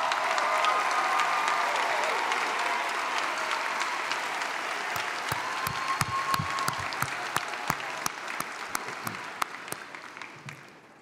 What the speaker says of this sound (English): Will the grandparents of our candidates please stand and receive our applause?